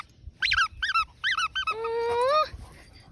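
A turtle-shaped plush dog toy squeaks in a quick series of short, sharp squeaks, then one long wavering squeeze, close and loud with no talking.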